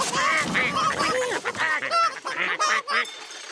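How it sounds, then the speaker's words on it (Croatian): Cartoon farm ducks quack and honk in a busy, overlapping flurry of nasal calls with music underneath. "Patke se još uvijek nisu smjestile."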